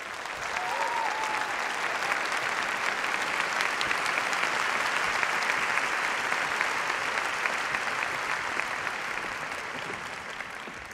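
A graduation ceremony audience gives the graduates a long round of applause, a broad, sustained wash of many hands clapping at even loudness.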